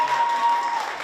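Brief burst of steady applause from the crowd at a women's football cup final, Lions FC against Souths United, a dense, even clapping wash that lasts about a second.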